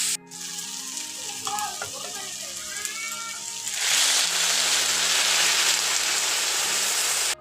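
A little water poured into a hot pan of sautéed taro stems, a quiet sizzle with a few clinks that suddenly bursts into a loud, steady hiss of steam and bubbling that continues to the end.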